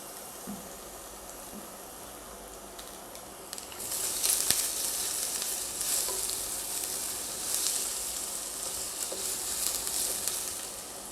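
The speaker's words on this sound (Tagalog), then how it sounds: "I'm going to saute our garlic and onions." Garlic and onions sauté in a hot pot for Filipino chicken afritada, starting as a quiet hiss and swelling into a steady, crackling sizzle that continues for several seconds, with soft stirring.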